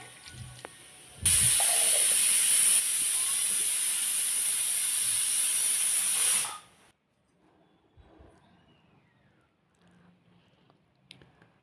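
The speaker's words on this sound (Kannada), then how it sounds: "ಮೂರು ವಿಸಲ್ ಆಗಿದೆ ತರಕಾರಿ ಎಲ್ಲ ಬೆಂದಿದೆ ನೋಡಿ" A pressure cooker of vegetables and lentils lets out a long, loud, steady steam whistle-hiss for about five seconds, then cuts off abruptly, leaving a quiet room with faint clatter.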